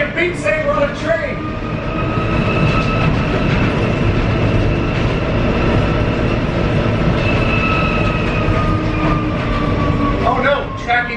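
Inside a moving train, a loud continuous rumble and rattle of wheels on track with faint squealing tones, steady throughout, with a person's voice briefly heard.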